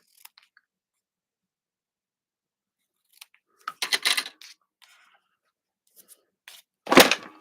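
Scissors snipping ribbon tails on a folded ribbon craft, with a few sharp, close cuts and rustles separated by quiet gaps.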